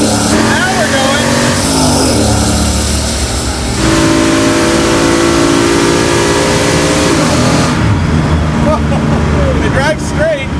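A car with a 600-plus horsepower LS V8 accelerates hard, its loud engine note climbing through gears and shifting, then easing off near the end, with voices over the roar.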